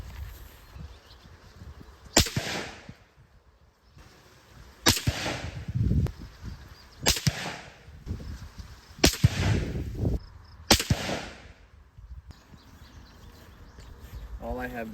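A Savage 110 rifle in .25-06 fires Federal 117-grain ammunition outdoors: five sharp, loud shots spaced a few seconds apart, with birdsong and quiet talk in between.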